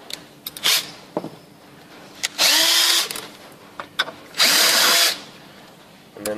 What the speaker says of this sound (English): I just want to open this hole up for where the rivet is going to go to a 4 mil hole